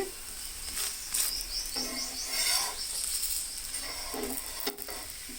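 Jaggery and maida dosa sizzling on a hot pan, a steady soft frying hiss with occasional stirring or scraping sounds, close by and fairly quiet, no talking.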